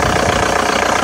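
A 2002 Volkswagen Golf TDI with a 1.9-liter turbo diesel engine idling, heard close and loud as a steady, dense rumble through the whole brief moment.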